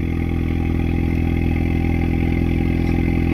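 Exhaust pipes of a 2016 Ford Mustang EcoBoost idle on a cold start, giving a close, steady, pulsing low rumble heard alone.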